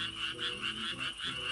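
Frogs croak at night in the Korean countryside, a loud near chorus pulsing in a steady repeating rhythm.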